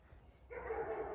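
A dog barks and yips a few times at a distance, a short burst of faint, rapid vocalizations that rises out of quiet room tone with no speech over it.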